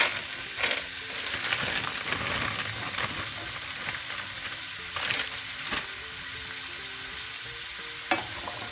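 Onions and garlic, joined by sweet potato, sauté in a pan with a steady close sizzle, broken by a few sharp scraping stirs and clinks, and no one speaking.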